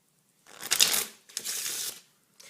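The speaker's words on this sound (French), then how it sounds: "j'ai ici un jeu de cartes que je peux mélanger" A deck of playing cards with the two jokers removed is shuffled in two quick riffling bursts, followed by a brief third rustle, close and crisp with no talking.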